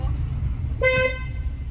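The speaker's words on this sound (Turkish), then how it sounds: "Korna bastığında ne oldu?" A single car horn toot, about a third of a second long, sounding over steady engine rumble and road noise inside a vehicle.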